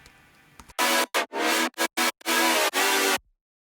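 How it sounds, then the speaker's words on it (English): A second saturated synth chord, EQ'd to remove low frequencies, after a faint lead-in sounds in loud, bright rhythmic gated stabs that end abruptly. "And the second chord sounds like that."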